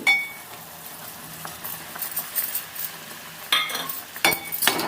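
Telaga pindi (sesame flour) goes into a pan for a Godavari-style curry, with a soft sizzle, stirring and a few light metallic clinks against the pan. No voices are heard.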